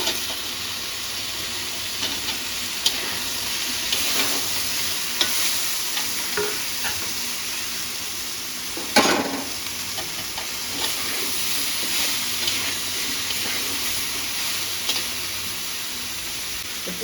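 Mixed vegetables, pumpkin among them, fry in a pan and are stirred now and then, giving a steady sizzle broken by occasional scrapes and clatter. The sound stays close and even, with no voices.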